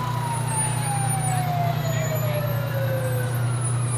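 A fire engine with a big American flag on its side rolls past in a Fourth of July parade, its siren wailing steadily in a long falling tone over a constant low engine rumble and crowd noise.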